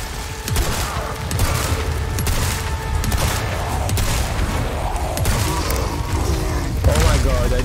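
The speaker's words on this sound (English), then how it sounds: "I need to use a shotgun now." Repeated shotgun blasts in Resident Evil 4 Remake form a dense, loud barrage of booming gunfire over continuous game noise, with a voice speaking through parts of it.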